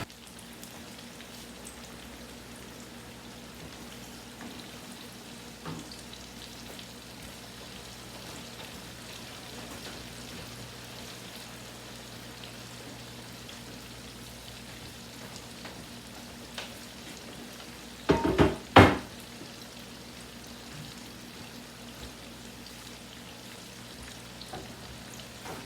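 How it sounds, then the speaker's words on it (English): Soft, continuous sizzling and crackling of chicken cutlets frying in a pan, with a brief louder clatter partway through. "it's sizzling a little bit."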